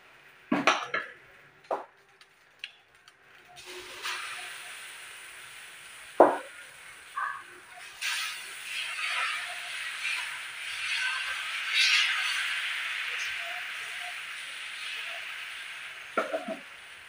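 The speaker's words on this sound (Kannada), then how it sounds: "ಇವಾಗ ಹಂಚಿ ಕಾಲೈತಿ, ದೋಸೆ ಹಾಕೋಣಂತ" Dosa batter poured onto a hot oiled griddle, giving a steady close sizzle that builds over several seconds, with a few clinks of utensils at the start and end.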